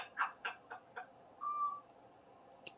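A pet bird gives a string of short, hooting, laugh-like calls, then a sustained whistle-like note, with a few sharp clicks at the end. The calls are fairly close and come in a quiet room.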